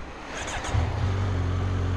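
A 2020 Kawasaki Z900 motorcycle in A2 35 kW trim with stock exhaust runs its engine: a deep, steady rumble that swells and firms up a moment in, then holds, close and loud.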